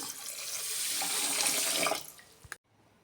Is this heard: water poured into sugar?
yes